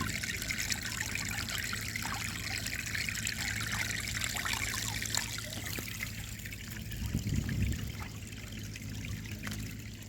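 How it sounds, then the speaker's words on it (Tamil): Steady trickling water runs continuously from one paddy field into another over a broad hiss, with a slightly heavier gurgle near the end; no voices. "ஒரு வயல்லேருந்து இன்னொரு வயலுக்கு தண்ணி பாயுது எவ்வளோ அழகாக பாயுது"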